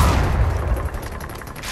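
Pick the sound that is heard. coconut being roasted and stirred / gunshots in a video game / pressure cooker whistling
gunshots in a video game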